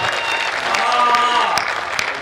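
An audience claps in a short, dense burst at a comic Hindi poetry gathering (hasya kavi sammelan). The crowd sounds full and fairly close, and a voice overlaps the clapping.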